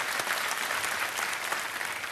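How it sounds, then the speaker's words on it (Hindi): Brief, dense applause from a studio audience welcoming a guest onto a talk programme, continuous clapping at moderate level with no voices over it. "तालियों के साथ इनका स्वागत आज के कार्यक्रम में।"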